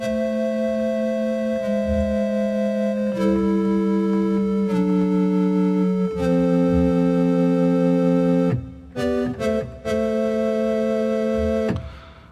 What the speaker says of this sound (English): And the recorders kind of sound a bit like this.